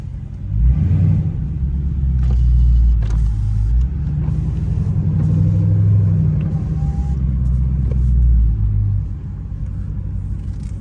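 A Dodge Charger Scat Pack idles at night with a deep, loud exhaust rumble that swells into a few slow revs and settles back, close by and continuous throughout.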